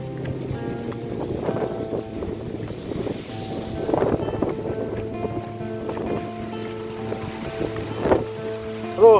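Wind blows outdoors in a rural village, a steady rushing buffet against the microphone with low rumbling gusts and a few faint background knocks, no clear talk.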